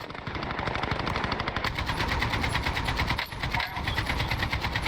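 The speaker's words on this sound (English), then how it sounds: "This AK sucks, dude." Rapid automatic AK rifle fire in a Call of Duty Modern Warfare match, a loud, dense stream of shots rattling almost nonstop for about five seconds, with only a brief break partway through.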